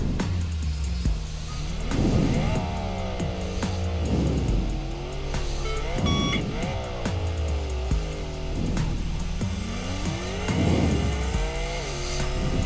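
A car in EV3 drag racing revs hard through repeated rising and falling engine sweeps, with tire squeal and a steady motor drone throughout, close and loud with no talking.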